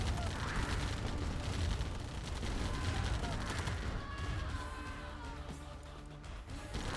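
Minigunner infantry fire in Command & Conquer Tiberian Dawn Remastered crackles in rapid, steady bursts under a busy battle mix of other effects, fairly quiet, with commentators talking over it.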